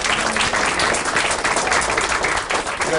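Audience applause at a community forum with police and council members, dense and steady clapping from a room full of people filling the whole stretch, loud and close with a faint murmur beneath.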